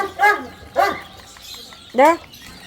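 Three sharp barks from native Indian dogs ring out close by, two in quick succession and a third after a short pause, over a quiet background.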